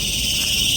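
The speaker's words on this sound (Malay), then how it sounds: "Kamu boleh dengar bunyi cengkerik yang bising tuh" Crickets in a forest in the morning keep up a dense, continuous high shrill chirring, steady and moderately loud with no other sounds.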